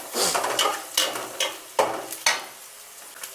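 Oil sizzling and crackling in a pan as biryani masala fries, with a steady hiss broken by several sharp clinks of a spoon stirring against the metal.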